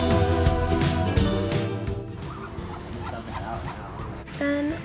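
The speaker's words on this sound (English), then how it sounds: "We have 5 Muscovy ducks right now" Muscovy ducks on a farm during morning chores make repeated loud bursts of calls, close by, with some quieter shuffling between the calls.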